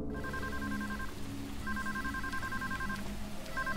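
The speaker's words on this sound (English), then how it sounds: "Alright, let's answer the phone." A telephone rings in the horror game Deadly Premonition, sounding two repeated electronic trill bursts over a low droning background, clear and steady with a gap between rings.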